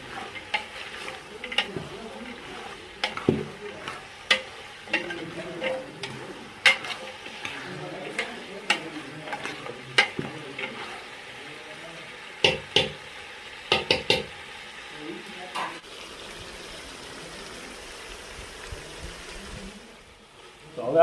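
Ginger, garlic and green chili paste frying in oil for Kathiyawadi khichdi, stirred with a steady soft sizzle and repeated scraping clicks against the pan. The sound fades to near quiet toward the end.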